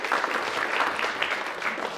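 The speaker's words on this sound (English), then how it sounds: "I didn't know they were supposed to clap either." An audience at a songwriters-in-the-round performance claps, a steady, even burst of applause filling the whole moment with no talk over it.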